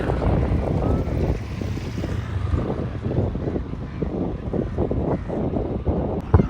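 A passenger boat arrives at Karanja jetty on the run to Rewas, a low, steady engine rumble mixed with wind buffeting and churning water, close and continuous, with no clear talk.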